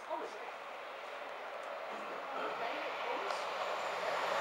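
A Class 180 train pulling into Newark North Gate station, a steady rumbling roar that slowly grows louder, with a station announcer talking over it.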